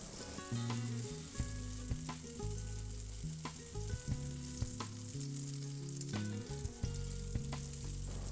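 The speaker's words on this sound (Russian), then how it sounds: "Жарим до подрумянивания 2-3 минуты." Cabbage fritter batter sizzles and spits steadily in hot oil in a pan, with occasional light taps and clinks of a utensil.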